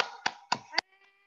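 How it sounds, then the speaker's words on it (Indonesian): A youth group at a Saturday fellowship gathering claps three times in an even rhythm, each sharp slap close and distinct, followed by a faint lingering hum. "Tepuk tangan dulu"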